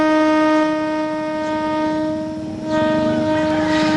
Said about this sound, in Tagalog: ang mas maingat na pagdaan ng tren sa crossing na ito ng Candelaria, Quezon